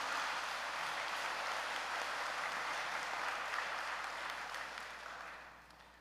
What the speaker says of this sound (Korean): 큰 감사의 박수 올리도록 하겠습니다